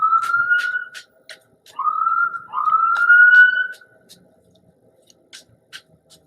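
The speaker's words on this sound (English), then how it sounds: "I'm gonna let this ambulance fly through" An ambulance siren passes by in three rising wails, each about a second long, separated by short gaps and followed by quieter scattered clicks, moderately loud and fading out.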